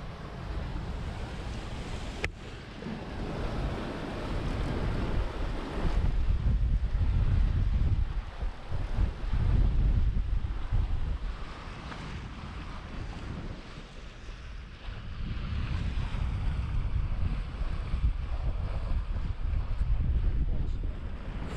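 Wind and waves aboard a sailboat crossing the Arafura Sea, a loud, continuous rush of wind buffeting the microphone over surging water, swelling and easing in long waves, with no talk over it.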